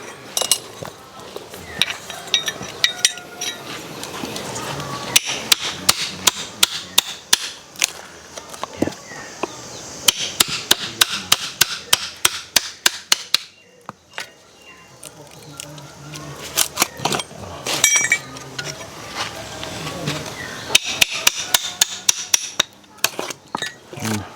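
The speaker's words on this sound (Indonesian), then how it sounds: "Ya, kita pakai pahat juga ini. Kita pecah batangnya sebetulnya." A steel chisel hammered into a wooden trunk to split it while roughing out a carving blank; repeated sharp metallic strikes in quick bursts, close and loud, with pauses and people talking in between.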